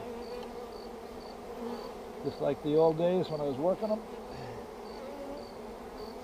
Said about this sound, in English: Boy, it sure is nice hearing them buzz around my head,